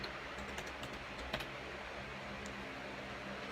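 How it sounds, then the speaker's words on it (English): A search term is typed on a computer keyboard, a run of light, quick key clicks over a steady background hiss, close and fairly quiet, with no voices. "And I can type in what I want."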